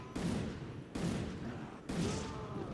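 Gunfire in the video game Resident Evil 5: three separate loud, close shots spaced about a second apart, each with a sharp onset and a lingering echoing tail.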